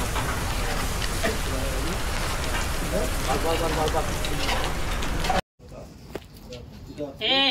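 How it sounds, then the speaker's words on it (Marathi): Monsoon rain pours steadily on surfaces in a coastal village, a dense, continuous patter that fills the scene before cutting to a quieter patch, with people talking and faint frying sounds in the background. "पाऊस चालू झालेला आहे."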